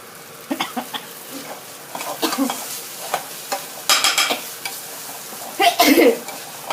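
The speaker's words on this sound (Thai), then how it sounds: "จะพัดไปเรื่อยๆจนเครื่องแกงเขาหอมเลยนะคะ" Thai curry paste sizzles and scrapes as a spatula stirs it around a hot pan, with irregular clinks and rustles up close; a cough and a faint voice break in briefly.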